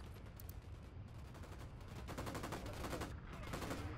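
Gunfire in the video game Ghost Recon Wildlands, a dense, continuous rattle of shots that runs throughout, steady and loud against a noisy battle background.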